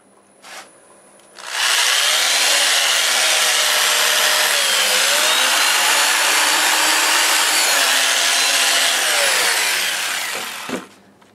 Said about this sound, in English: And I'll start with this white Scotch-Brite